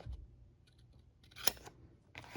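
Scissors snipping paper for a junk journal, a few quiet close cuts with one sharper snip near the middle and another at the end, faint and sparse.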